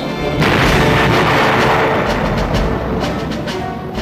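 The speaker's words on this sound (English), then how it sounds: "He's shooting at us!" Gunfire from a 1983 film trailer: loud, dense booming shots rolling together into a continuous roar across the whole stretch, with no speech.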